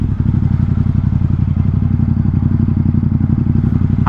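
A Ducati XDiavel motorcycle idles at a traffic light, its engine close and loud with a steady, rapid pulsing throb that holds throughout, with no talking over it.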